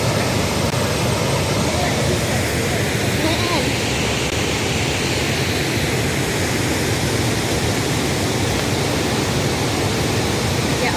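A waterfall in a Lao forest in Attapeu province roars as a dense, continuous wash of rushing water, loud and close, steady from start to finish without pause.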